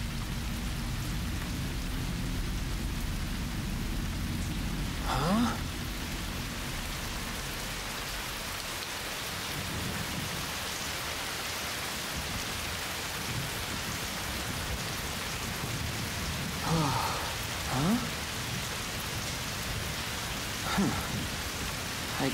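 Steady rain falls on surfaces in an anime episode, with a few low rolls of thunder breaking through now and then. The downpour stays constant throughout and no one speaks.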